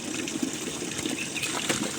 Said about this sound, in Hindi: अभी पानी का फ्लो इतना ही है, बड़ी नहीं है नदी।